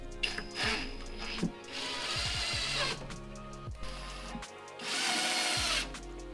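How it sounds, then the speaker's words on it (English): Power drill driving small Loctite screws into an insulated speaker box for a media wall unit, several close, loud bursts of whirring with pitch sweeps, separated by brief pauses and handling noise. "I'm just fixing it in place in a few points with my little Loctite screws."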